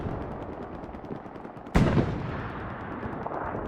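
Gunfire and grenades in the competitive World War II shooter Hell Let Loose: a sharp, loud grenade blast cracks over a continuous rattle of distant rifle and machine-gun fire.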